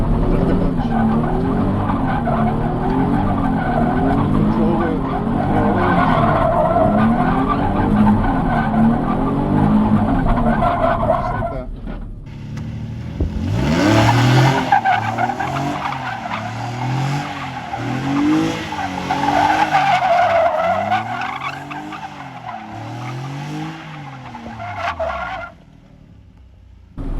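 Car doing a donut, tires skidding and squealing loudly and continuously as the engine revs, shifting in tone midway as the spin continues.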